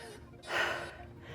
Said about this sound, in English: I'm sweating, breathing heavy.